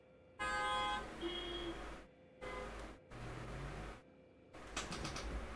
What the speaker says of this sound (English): Sorry, there's cars honking outside.